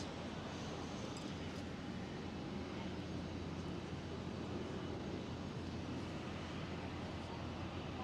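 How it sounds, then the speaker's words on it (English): A KLM Boeing 777 takes off on runway 24 at Amsterdam Schiphol, its engines giving a steady, broad roar from a distance that holds constant throughout. "the KLM 777 is going for the takeoff on runway 24"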